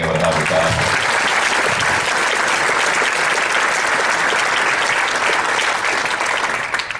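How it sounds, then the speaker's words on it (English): Big crowd round of applause for Bill at a speaking event, loud continuous clapping with no letup for about seven seconds before tapering slightly at the end. "give Bill a nice round of applause for being able to have this happen"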